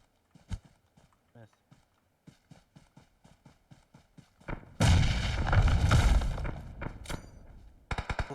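Gunfire in the mobile battle-royale game PUBG Mobile on the Erangel map: a string of evenly spaced single shots, then a loud sustained blast or burst of fire, ending with a few more sharp reports, with a voice talking over it.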